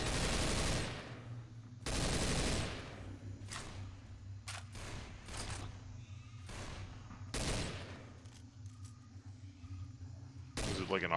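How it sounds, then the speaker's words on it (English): Video game gunfire in a shooter match, loud automatic bursts and single shots in irregular clusters, some sustained and some brief, close and punchy. "I guess I'll just run out here and shoot some stuff."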